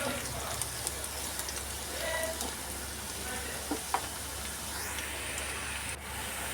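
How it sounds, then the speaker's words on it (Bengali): Onion and garlic fry in oil in a pan, making a continuous close sizzle and hiss with a few faint stirring taps and a low background hum. "দিয়ে রসুন আর পেঁয়াজটাকে আমি তেলের সঙ্গে খুব ভালো করে ভেজে নেব"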